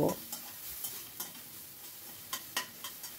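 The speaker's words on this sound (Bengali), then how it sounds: "এবারে আমি এর ভেতর দিয়ে দিচ্ছি 1 টেবিল চামচ মতো আদা রসুন বাটা, দিয়ে আবারও এটাকে ভালো করে ফ্রাই করে নেব" Onion frying with a spoonful of ginger-garlic paste, stirred in a pan: a steady soft sizzle runs throughout, broken by light scraping strokes of the spoon at irregular intervals, close but fairly quiet.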